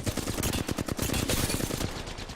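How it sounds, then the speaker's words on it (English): Sustained automatic gunfire laid down as covering fire in the battle royale shooter Apex Legends, a dense rapid rattle of shots running loud and steady for the whole stretch with no talking. "This is called covering fire."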